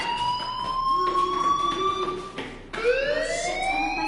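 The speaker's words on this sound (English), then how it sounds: "do you hear that fire alarm?" Fire alarm ringing in the video game Life is Strange: a loud, continuous wailing electronic siren tone sweeping in pitch, briefly dipping and restarting midway, with no talk.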